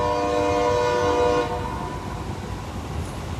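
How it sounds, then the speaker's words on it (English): Train passing by outdoors, a loud sustained horn blast that cuts off partway through, leaving the broad rumble of the moving train continuing alone. "We'll let the train go through."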